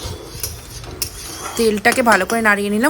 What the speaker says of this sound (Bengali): শুকনো লঙ্কা আর একটু পাঁচফোড়ন দিয়ে দেওয়ার পরে ভালো করে তেলটাকে নাড়িয়ে নিলাম।